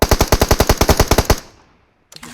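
Rapid automatic gunfire in the PUBG Mobile video game, a loud close burst of about fourteen evenly spaced shots over a second and a half, then a brief quiet and a small click.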